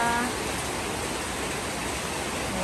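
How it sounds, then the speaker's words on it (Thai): Heavy, steady rain pours down at a home in the Sisaket border region of Thailand, a dense, unbroken hiss that fills the whole scene at close range with no pauses. "ตอนนี้ฝนตกหนักเลยนะคะ"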